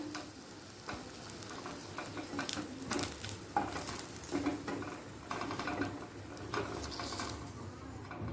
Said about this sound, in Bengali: লাল করে ভেজে তুলে নেব